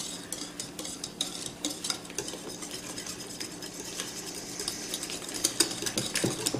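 Eggs being broken up and stirred into breadcrumbs and milk for meatloaf, a close, busy run of wet scraping and clicking utensil strokes in an irregular rhythm.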